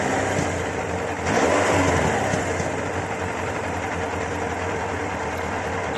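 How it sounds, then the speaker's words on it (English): A Yamaha FJ1200 motorcycle engine, being set up for carburettor synchronisation, runs close by with a steady, rough idle, briefly rising in a light rev before settling back to an even rumble. "Starts up the bike."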